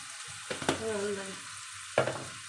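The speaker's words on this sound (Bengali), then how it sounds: "মশলাটা কষা নেবে করে মশলাটা কষে নেব" Spice masala frying in a pan while being stirred for a vegetarian dish, steady close sizzle with a couple of sharp scraping stirs.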